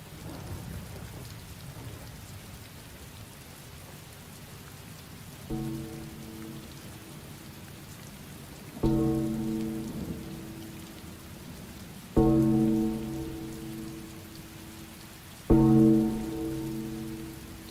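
Heavy ambient rain, a steady soft wash of drops, joined partway through by a low sustained tonal drone that swells in four successive surges, each louder than the last.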